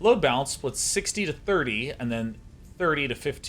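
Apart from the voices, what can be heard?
No everyday noise stands out behind the speech.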